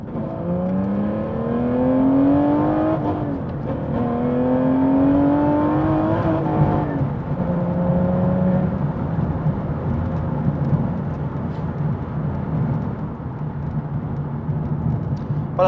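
Sports car with a seven-speed manual gearbox accelerating hard, engine note climbing in pitch through several gears with clear drops at each shift, loud and close, no talking.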